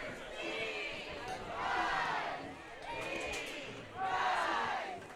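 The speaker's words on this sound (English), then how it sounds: "Some fans pumping up the crowds here" Fans at an Ultimate frisbee game chant and cheer in rhythmic, swelling waves to pump up the crowd, sounding somewhat distant and rising and falling in repeated bursts.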